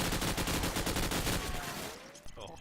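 Dense, rapid gunfire from Call of Duty 4 rattles continuously for about two seconds during a competitive match, then breaks off into a quieter tail with a brief thud.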